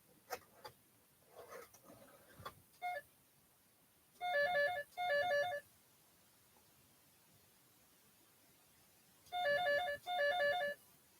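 A telephone ringtone rings in two pairs of short electronic trilling bursts, separated by a quiet gap, after some faint scattered clicks and rustles at the start.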